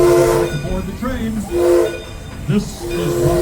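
An Oregon Coast Scenic Railroad train runs close by with a loud, steady rumble, its horn sounding in repeated blasts over the rolling noise.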